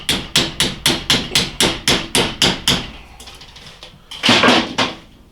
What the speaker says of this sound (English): Just take an Allen wrench and see if we can tap the rest of it out.